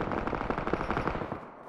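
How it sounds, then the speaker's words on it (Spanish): Rapid automatic gunfire from a video game rattles in dense, sustained bursts for under two seconds, close and loud, with no talking. "Sentí eso como un disparo."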